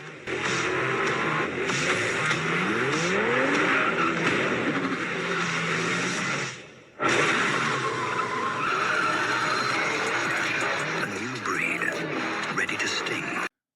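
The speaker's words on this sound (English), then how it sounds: "car commercials that feature the kind of aggressive, high-risk driving that kills people" Car tires skid and squeal through an aggressive-driving car commercial, loud and sustained with engine roar and a brief cut partway through.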